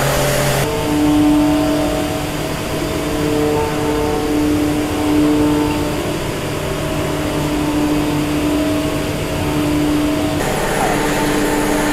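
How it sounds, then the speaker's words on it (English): A cold press machine used for laminating MDF boards in a furniture workshop gives a loud, steady mechanical hum and whir that runs unbroken throughout, with no talk over it. "This is a cold press. Cold press. Cold press, okay. Means we put laminates on the MDF."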